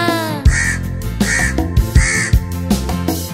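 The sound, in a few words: crow cawing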